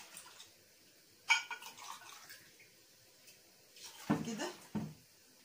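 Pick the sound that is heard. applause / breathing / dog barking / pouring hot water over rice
pouring hot water over rice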